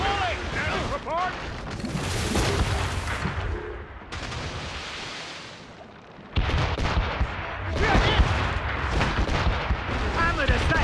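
Broadside volleys from naval cannons in Assassin's Creed Rogue, loud repeated booms rolling in clusters with a brief lull midway, under shouted crew voices.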